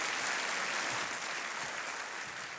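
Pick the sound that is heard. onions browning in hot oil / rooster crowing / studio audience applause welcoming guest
studio audience applause welcoming guest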